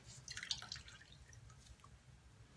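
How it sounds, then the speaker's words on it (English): Water leaking through a hole in a bucket, dripping in a few faint, close drops near the start that fade into quiet room noise, with no voices. "my bucket has a hole in it because it's leaking"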